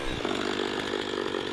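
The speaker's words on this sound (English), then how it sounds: "it was time to open up a trail with my chainsaw" A chainsaw runs steadily at high revs while cutting a trail through woodland, a loud, continuous close-up engine whine with no talk.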